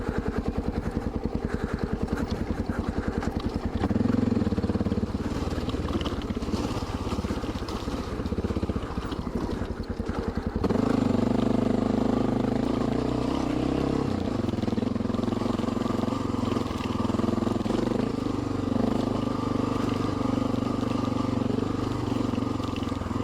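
A Honda XR650L dual-sport motorcycle drones steadily while riding, a continuous loud engine note with rattling clatter from the fitted gear. The pitch shifts partway through.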